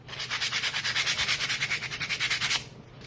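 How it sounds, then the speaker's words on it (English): Sanding a small craft snowflake ornament by hand, a steady run of quick rhythmic scratchy strokes, close and fairly loud, stopping abruptly near the end. "So I'm going to give this snowflake a little sand,"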